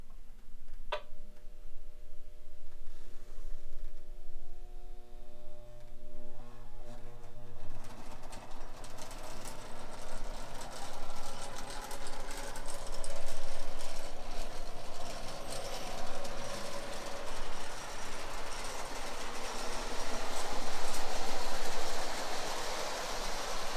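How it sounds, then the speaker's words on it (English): A small O scale model train locomotive runs with a steady mechanical whir and rhythmic ticking clatter, preceded by a brief tonal hum from its horn sound at the start. "let's get started with running this engine, and I'll run the horn on it"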